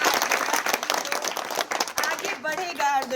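Audience applause and clapping at a village discussion event, a dense crowd of hands under an announcer's voice that carries through the second half.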